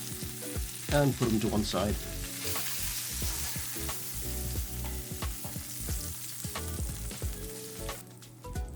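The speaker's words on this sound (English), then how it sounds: "When they're nicely browned and over, I will take them out" Pork chops sizzle and spit steadily in a hot pan, browning with sharp crackles and occasional clatter as they are turned, while a voice speaks briefly near the end.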